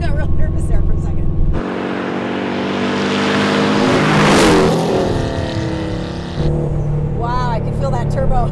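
Twin-turbo 1959 VW Beetle accelerating on 14 pounds of boost: close engine roar that swells and rushes through a long pull, then eases off, with people talking over it at the start and end.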